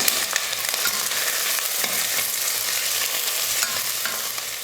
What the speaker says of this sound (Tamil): ஒரு 2 நிமிஷம் வெங்காயம் நல்லா வதக்கிக்கலாம்.